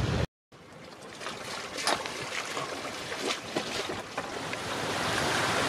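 A sailboat under both sails moves through waves in a light 9 to 10 knot breeze, giving a faint steady wash of water and wind noise with soft splashes, close and continuous.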